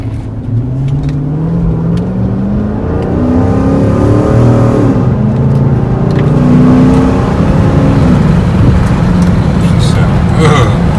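A 2010 Chrysler 300C with a 5.7 Hemi V8 and a cold air intake rumbles loudly up close, its engine note rising and falling through several revving pulls while driving, with a voice talking in places.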